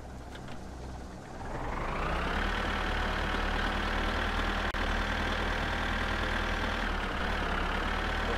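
Tractor engine in the driving game My Summer Car, a steady close diesel drone that rises in pitch and loudness after the first second and then holds a constant, rumbling tone.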